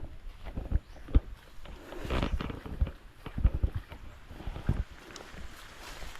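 Horse hooves clip-clop in an irregular walking rhythm at moderate distance among rural outdoor sounds, with soft thuds and scuffs spread through the clip.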